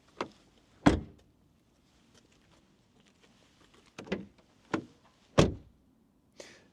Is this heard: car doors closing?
yes